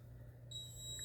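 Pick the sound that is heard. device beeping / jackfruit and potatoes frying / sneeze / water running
device beeping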